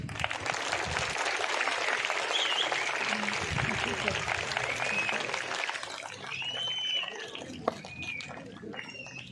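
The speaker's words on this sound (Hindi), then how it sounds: "भरपूर तालियों में इस्तकबाल कीजिए" A school event crowd applauds continuously for several seconds, then the clapping thins out with scattered voices and faint whistles at the end.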